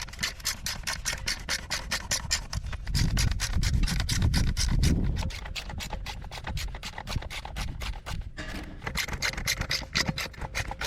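Torx screws being removed from a Jeep headlight, with a steady close stream of rapid rasping, scraping clicks that swells briefly midway and runs on without any voices.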